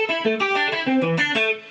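Electric guitar playing a riff as quick 16th notes, a bright, slightly effected tone picking a steady run of distinct notes alone.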